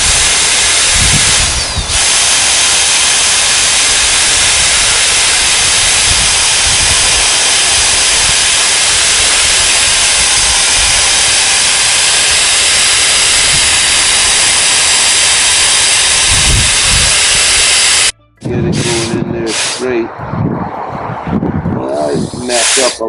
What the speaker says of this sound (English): Sometimes the wood has a hard spot and the bit rides off.